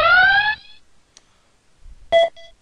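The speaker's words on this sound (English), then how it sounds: "that's why I'm getting some alarms there" Inspection measuring software sounds electronic alarm beeps for an out-of-tolerance reading: a loud sustained tone at the start, then a short sharp beep with a brief softer echo tone about two seconds in, with quiet gaps between.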